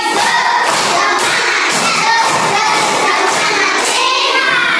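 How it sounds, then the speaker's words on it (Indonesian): A school class performs a rhythmic clapping chant, many children clapping and thumping in a quick repeated pattern while chanting together, loud and close in a classroom. "Tepuk semangat cowboy."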